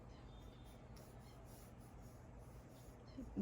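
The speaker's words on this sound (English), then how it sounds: "I'm doing right now is rough sketching" A pencil rough-sketches on paper with a faint, continuous scratching and rubbing of graphite strokes, close and quiet, with no voices.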